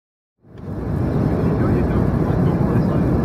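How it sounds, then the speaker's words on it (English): A KLM City Hopper airliner cabin fills with a loud, steady engine roar that rises from silence after half a second and then holds as a broad, constant drone. "Oh yeah, the plane's moving around for him."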